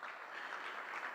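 Audience applause at a political event for a Brampton mayoral candidate, a faint, distant, steady wash of clapping with no voices over it.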